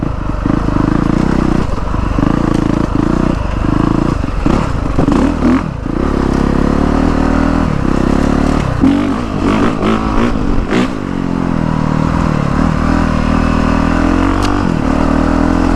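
A brand new dirt bike motorcycle rides through the woods, its engine loud and continuous with rising and falling revs, clattering and scraping from the trail close by.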